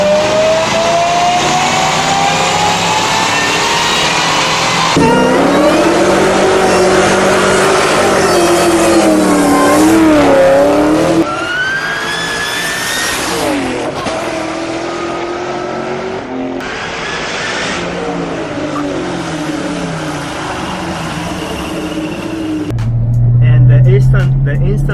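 Supercharged Ford Mustang Terminator Cobra with a roots-style supercharger, engine revving and pulling hard with rising whine, loud and close, passing sweeps throughout and a brief low rumble at the end.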